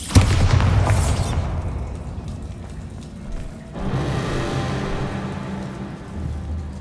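A Bombarda spell explosion in Hogwarts Legacy bursts loudly at the start as a deep boom, followed by a long rumbling debris tail and a second swell of crackling rubble a few seconds later.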